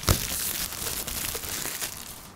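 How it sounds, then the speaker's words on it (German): Plastic film is peeled and crinkled off the packaging of a Quasar Raas shisha head, a close, continuous rustling crackle lasting a couple of seconds with no talking. "Einmal die Folie ab."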